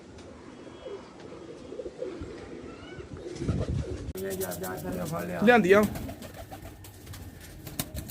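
Pigeons cooing softly in repeated low throaty phrases, close by, while a person talks over and between the calls.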